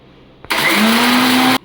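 After a small click, a mixer grinder grinding dry spice paste without water for black chicken curry whirs loudly for about a second, then cuts off abruptly.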